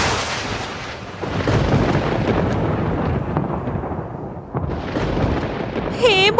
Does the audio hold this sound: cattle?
no